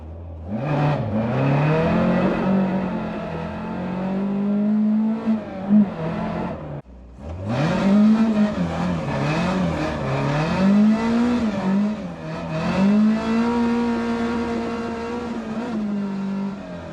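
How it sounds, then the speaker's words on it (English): A Ford Escort Mk2 engine revs hard in repeated rising and falling sweeps, with a short gap at about seven seconds. The loud, close exhaust crackles with pops and bangs between revs, and there is no talk. "Pops and bangs."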